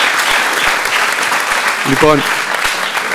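Applause from a live audience at a Greek music creators' tribute concert, dense and steady throughout, with a short sung or spoken voice rising briefly over it near the middle.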